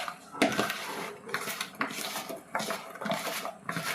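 Food and salt being mixed in a dish, giving repeated scraping and clinking strokes of a utensil against the dish at close range, with no talking.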